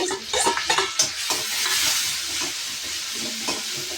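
Onions and tomato sautéing in a pan for kurma, a loud close sizzle with repeated spatula stirring and scraping strokes, busiest in the first second and then settling into steady frying, no voices.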